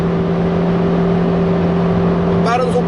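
Steady engine drone from a Kenbo 600 car under sustained acceleration at fairly high speed, with a constant hum and a faint whine rising near the end; no one speaks.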